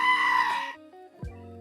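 A goat bleat sounds from the Roblox game Anime Vanguards, summoned by a unit's ability: a single short wavering cry, fairly loud, then fading into a falling tone, with no voices over it.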